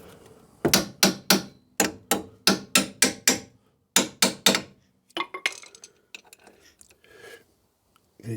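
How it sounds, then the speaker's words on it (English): A hammer strikes a metal plate with holes on a Rover 75, a run of about a dozen sharp, loud, evenly paced blows in two bursts, followed by quieter clinks and handling noises. "after you've hit it with a hammer"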